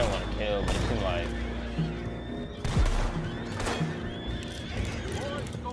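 Horses neigh and whinny in the Red Dead Redemption 2 video game, with hoof clip-clop beneath and voices talking over them throughout, the whinnies rising clearly above a busy game soundscape.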